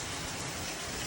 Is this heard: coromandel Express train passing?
no